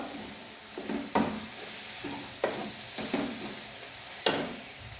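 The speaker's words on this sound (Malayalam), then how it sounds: "കുറച്ച് ഉലുവാപ്പൊടി ചേർത്ത് കൊടുക്കാം. നന്നായിട്ട് വീണ്ടും ഒന്ന് ഇളക്കാം." A hog plum chili pickle mixture with fenugreek powder sizzles softly in a pan as a spoon stirs it, with several distinct scraping strokes standing out over the gentle frying.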